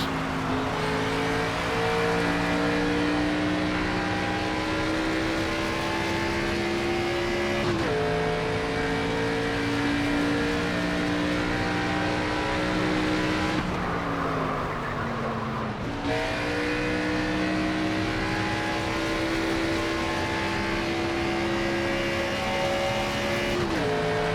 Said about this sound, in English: I love the way the engine sounds when you're close to the wall like that